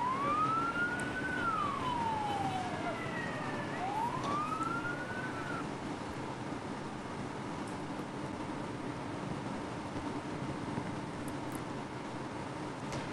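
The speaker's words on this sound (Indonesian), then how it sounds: "2 unit mobil pemadam kebakaran pun dikerahkan" Wailing sirens from two fire engines rise and fall in long sweeps, heard clearly over a steady background rumble of traffic during the first half, then fading out and leaving only the drone of road noise.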